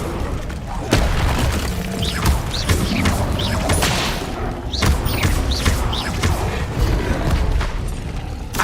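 Incendio fire spell cast in Hogwarts Legacy, on hard mode: repeated whooshing bursts and booming impacts over a busy battle din, with sharp hits recurring every second or so and a faint voice underneath.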